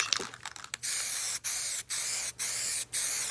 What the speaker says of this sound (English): I can take my Bright Idea, which is a nitrocellulose lacquer, and I can put that lacquer on top of this.